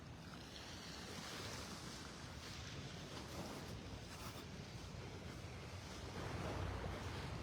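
Steady ocean surf washing onto a stretch of beach in North Naples, Florida, on an early morning, a continuous broadband roar with light wind noise on the microphone, swelling slightly louder near the end.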